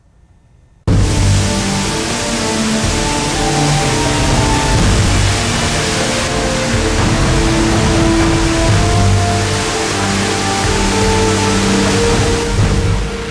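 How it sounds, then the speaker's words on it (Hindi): Swollen river roaring in Uttarakhand after heavy rain, a loud, unbroken rush of water that starts abruptly and stays dense throughout, with steady tonal sounds running faintly underneath. "उत्तराखंड की तमाम नदियों में लहरों का शोर काफी बढ़ गया है।"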